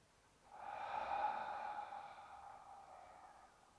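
A single slow, deep inhalation drawn in during a vinyasa yoga practice, a soft airy breath swelling over about a second and a half, then tapering off quietly, close and alone with no talking.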